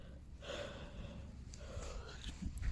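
A person yawns close by, a long drawn breath opening into a soft, strained exhale, with faint breathing sounds after it.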